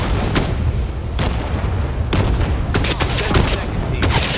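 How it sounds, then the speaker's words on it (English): Heavy mortar explosions in a video game, a series of loud booming blasts and sharp impacts spaced irregularly over a dense, rumbling battlefield background. "Oh, I like mortars."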